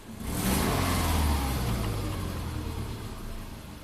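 A Subaru engine with a high-idle problem revs up sharply as the gas is tapped, then holds a strong mid-pitched roar that gradually settles, close and loud with no talking.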